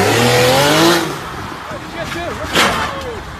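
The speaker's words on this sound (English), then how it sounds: "I've never had a car with launch control. And yeah, it just goes and then vroom." A Mercedes-AMG A35 saloon launches hard with launch control, its engine note climbing steeply and loudly for about a second before dropping away, followed by quieter road noise and a brief rushing burst.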